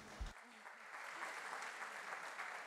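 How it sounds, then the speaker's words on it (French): A conference audience gives steady, sustained applause for a panel at an event on fighting disinformation, filling the room evenly and sounding somewhat distant after a brief low thump at the start. "nous avons ici un panel qui mérite tous nos applaudissements"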